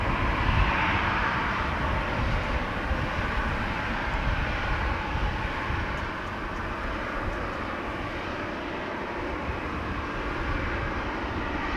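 A Boeing 737-800 airliner at Amsterdam Schiphol Airport on a windy day, a loud continuous jet engine roar and rumble, steady throughout and easing slightly midway, with no talking.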